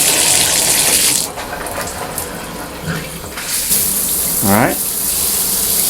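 Water gushes hard from a shower head fitted with a new filter. The spray runs loud and steady, eases briefly, then surges again, and someone speaks a word over it.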